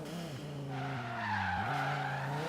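A Volvo 850R launches at full throttle, engine note climbing and stepping through revs while the tires squeal and skid loudly, close and continuous.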